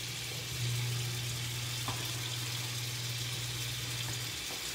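Pork ribeyes fry in a pan on a stove over medium-high heat, a steady, even hiss and crackle that runs unbroken throughout, with a low hum beneath it.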